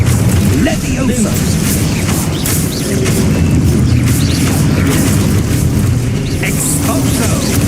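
Spell explosions in Hogwarts Legacy, dense continuous booming and bursting blasts layered into a loud, sustained rumbling roar.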